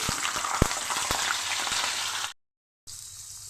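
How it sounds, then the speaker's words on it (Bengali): Potato pieces fry in oil in a pan for a vegetarian jackfruit curry, giving a steady, close, dense sizzle with a few sharp crackles, then a brief silent gap before the sizzling resumes. "আলুটা ভেজে নিচ্ছি"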